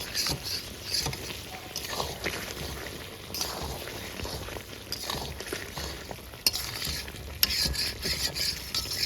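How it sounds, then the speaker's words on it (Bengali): Meat braises with water in a wok, bubbling and sizzling close by while a spatula stirs and scrapes in uneven strokes, with a couple of sharp knocks against the pan. "তো জল দিয়ে দিই কষাচ্ছি, কারণ আজকে তো প্রেশারে দিইনি, পুরোপুরি কড়াইয়ে করছি এটা।"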